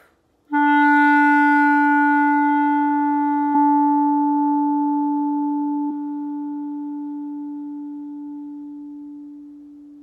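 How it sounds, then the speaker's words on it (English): A clarinet holds one sustained note that starts loud and gradually fades softer over about ten seconds in a smooth decrescendo; solo, close and without speech. "And a decrescendo would sound like this."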